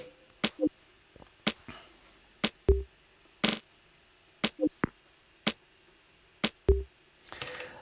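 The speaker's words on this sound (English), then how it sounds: "the snare sound is not really special. It's just a short snare sound, which plays on the second beat." Short, crisp snare hits crack out in a steady repeating pattern, dry and close, with small ticking accents and quiet gaps between beats.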